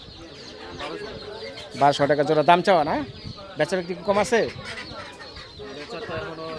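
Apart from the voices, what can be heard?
chickens and chicks at a rural poultry market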